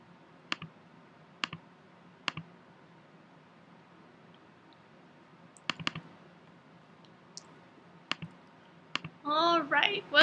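Sparse clicks of typing on a computer keyboard, a few isolated keystrokes and short bursts spread across the stretch, close and fairly quiet, ending with a brief rustling burst.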